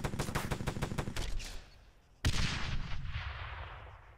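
Gunfire in the military shooter ArmA 3: a rapid burst of repeated shots for about a second and a half, a short lull, then a single loud blast with a long rumbling decay.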